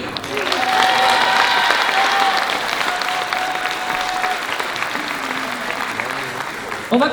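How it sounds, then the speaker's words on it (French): An audience at a dance club choreography event breaks into loud, sustained applause that slowly thins toward the end. "Et ça s'applaudit."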